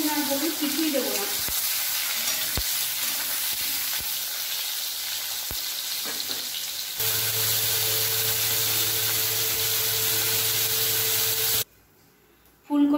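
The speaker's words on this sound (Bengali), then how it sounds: "ফুলকপি আর আলুটাও ভাজা হয়ে গেছে" Cauliflower and potato pieces frying in hot oil in a Bengali kitchen, a loud continuous sizzle with sharp stirring clicks early on, shifting to a steadier hum before cutting to near silence.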